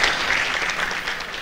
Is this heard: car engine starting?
no